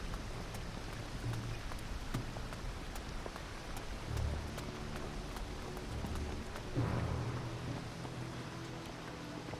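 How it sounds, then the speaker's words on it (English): Steady rain in the video game Risen 3: Titan Lords hisses throughout, with low rumbles swelling now and then and faint clicks over the top, at a moderate, even level. "stepping up here just completely cut out the rain noise"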